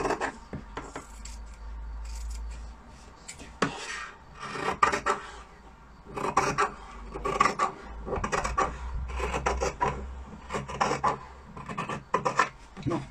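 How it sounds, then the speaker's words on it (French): Scissors cut a sewing pattern piece, giving close, repeated scraping snips in irregular bursts with short pauses between them. "Donc moi j'en suis à découper la pièce A maintenant."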